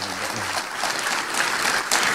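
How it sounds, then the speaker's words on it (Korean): An audience at a public information session in Yeosu applauds to welcome a speaker, a dense burst of clapping that fills the short moment. "큰 박수로 환영해 주시기 바랍니다"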